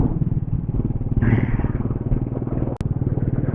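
A motorcycle is ridden along the road from Kolkata toward Siliguri, its engine giving a loud, close, steady throbbing drone with wind buffeting and a brief thump partway through.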